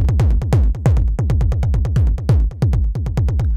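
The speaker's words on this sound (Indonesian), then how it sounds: "Bisa tambahin delay dari si electron digitaknya," Drum machine pattern from an Elektron Digitakt with a delay effect, a punchy kick and percussive hits repeating in a steady fast rhythm, each hit trailing into echoes, loud and close with no talking.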